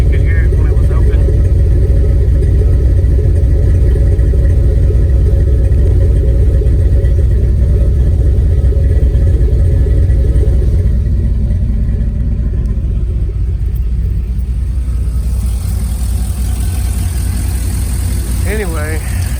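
A turbocharged 2001 Chevrolet Silverado with a 5.3 engine rumbling loudly while driving, a deep steady engine drone with a lopey cam note throughout and a brief rise in revs near the end, with someone talking over it.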